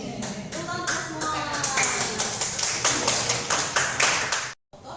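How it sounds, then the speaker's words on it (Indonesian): A group rehearsing with a church vocal group claps hands together in a steady, fairly loud burst of applause lasting several seconds before stopping suddenly, with faint voices underneath. "Tepuk tangan semua."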